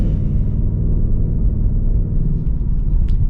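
A naturally aspirated V8 in a Ford Mustang GT automatic hums steadily at low speed with a deep, continuous rumble, driving slowly along without talk.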